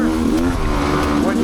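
Off-road vehicle on a forest ORV trail accelerating hard out of a corner, a loud, steady engine drone rising in pitch, close to the rider, with a voice talking over it.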